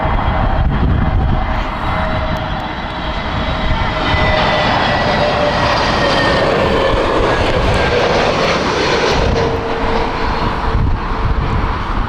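A British Airways airliner arrives at Heathrow Airport in crosswinds, its loud jet roar sweeping past continuously with heavy wind buffeting the microphone.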